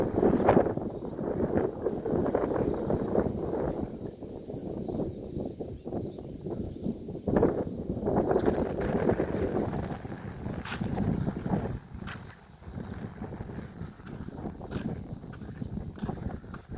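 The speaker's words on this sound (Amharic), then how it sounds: "በጣም ኃይለኛ ንፋስ አለ" Strong wind buffets the microphone in continuous low, rumbling gusts that rise and fall throughout the whole stretch.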